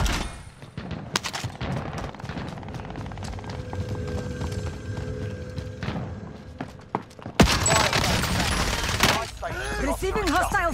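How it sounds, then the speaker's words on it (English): Hostile gunfire in Call of Duty Modern Warfare, scattered shots and thuds spread through busy game noise, with a louder burst of firing near the end. "Receiving hostile fire"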